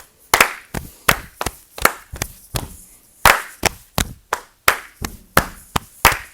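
Sharp hand claps sound in an uneven rhythmic pattern, about fifteen crisp claps close by, grouped with short pauses between phrases and no talk over them.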